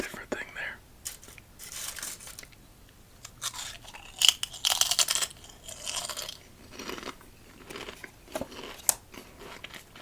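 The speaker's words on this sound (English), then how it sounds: "makes me want to put a chip in my mouth" Crisp crunching and chewing of Dill Pickle Lay's potato chips close to the microphone, several sharp bites followed by softer munching, with quiet whispery sounds in between.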